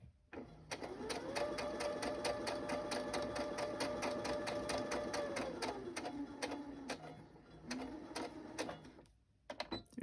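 A sewing machine stitches through pages of a book-page journal, running steadily and fairly loud as a rapid even patter with a rising motor whine that settles, then slows briefly and resumes near the end.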